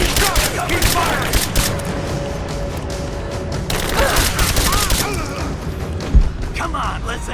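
Gunfire rattles through a firefight in Rise of the Tomb Raider, with dense bursts, thuds and a sharp bang near the end over constant loud battle noise, while voices shout over it.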